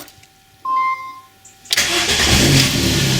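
MINI One engine cranks with a brief starter whirr, then catches and settles into a loud, steady idle close by.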